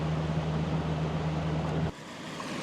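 A 9.9 hp outboard motor running on a moving boat, a loud steady engine roar with a humming tone that abruptly drops away to a quieter wash of water and wind.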